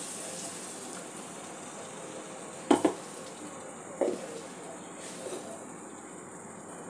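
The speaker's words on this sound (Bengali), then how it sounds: "পরিমাণ মতন জল দিয়ে দিচ্ছি।" Water poured into a hot pan while cooking aar fish kalia, a Bengali fish curry, gives a steady broadband hiss and sizzle with a few sharp pan clinks partway through.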